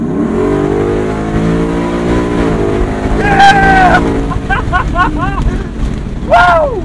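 A Velocity Modern Classics Ford Bronco with a V8 engine idles with a deep, rumbling tone, then revs sharply several times in quick bursts, loud and close, with a final rev near the end.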